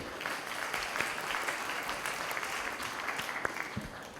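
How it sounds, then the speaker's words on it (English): Audience applause following a talk at a venture capital event on agriculture and climate, a steady, fairly faint wash of clapping heard from a distance. "Round of applause for that."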